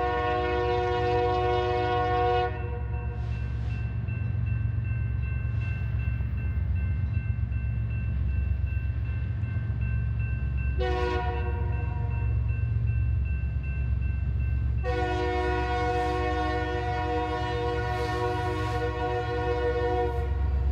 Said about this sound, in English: crude oil empties return north with an SD70 Mac, an ES44 AC, and a CSX C40-8W at the head